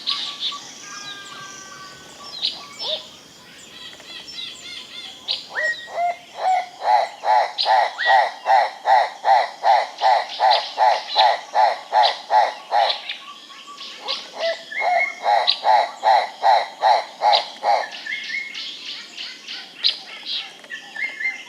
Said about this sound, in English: just heard eerie call of the mysterious buff-spotted flufftail